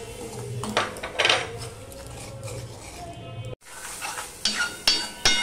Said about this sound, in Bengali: মশলাটা কষানোর জন্য একটু জল দিয়ে দিলাম,